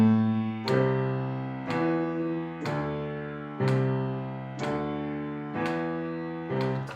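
A piano plays a Hanon technique exercise slowly at 60 BPM with eight notes per bar, each key struck clearly at an even, unhurried pulse and left to ring, alone and close.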